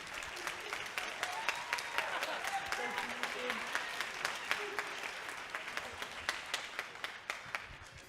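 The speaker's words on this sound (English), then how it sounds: "How about a round of applause just for that sake alone?" Audience applause at a school jazz concert, a steady wash of many hands clapping for about eight seconds, with faint voices mixed in beneath the clapping.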